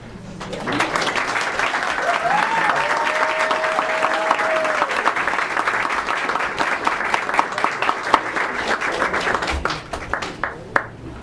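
An audience at a school board meeting gives a round of applause for the Bobcats elementary students, a long, full burst of clapping that swells, holds, then breaks into scattered individual claps as it fades.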